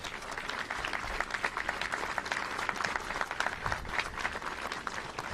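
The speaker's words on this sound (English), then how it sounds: "Let's give them a round of applause." Audience applause for Governor Pritzker and Senator Harmon at an Illinois energy bill signing, a steady dense clapping that carries evenly through the whole stretch without a break.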